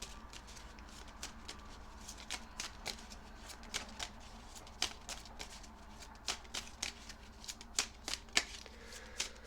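Tarot cards shuffled by hand in a quiet room, a steady run of soft papery riffles broken by sharper flicks and taps, close and fairly faint, with no talking.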